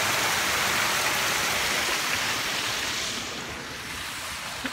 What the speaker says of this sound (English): That tributary right there comes down, drops down through this little culvert, and then across.